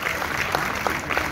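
Sparse, scattered clapping from the audience at a Hindi comedy poetry gathering (kavi sammelan), heard briefly alongside crowd murmur and a voice.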